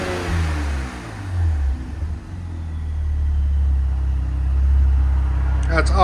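A 2026 RAM 1500 pickup with the 3.0L Hurricane inline-six and a Flowmaster Super 10 exhaust revs up, a deep loud throaty drone that swells and holds close by, with someone speaking over it.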